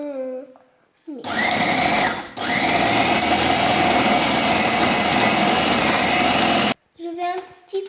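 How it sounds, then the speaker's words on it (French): A kitchen blender whirring loudly and steadily while mixing a homemade nugget mixture, after a short pulse, with someone speaking French briefly before and after. "on pulse un peu. Ensuite, on mixe."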